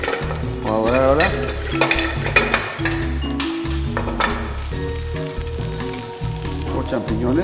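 Beef osobuco browns in olive oil, a loud close sizzle under a low hum of voices, with pan clinks and stirring scrapes scattered throughout and a few spoken words near the start and end.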